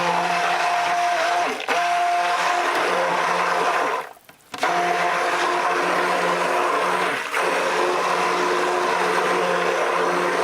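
An immersion blender whirs steadily through cold process soap batter for a peppermint swirl bar. The loud, continuous motor hum stops once for a moment near the middle and then resumes, with no talking.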